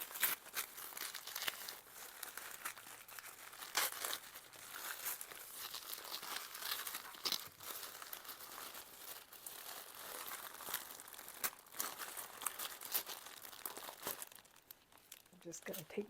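Tissue paper wrapped with lace crinkles and rustles steadily as a gift is unwrapped up close, with sharper crackling bursts throughout and a soft quieter stretch near the end.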